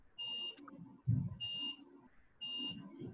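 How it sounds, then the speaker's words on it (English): An alarm sounds in three evenly spaced bursts of high, harsh buzzing beeps, each about half a second long, moderately loud, with faint background voices between them. "Oh my God, what is this alarm?"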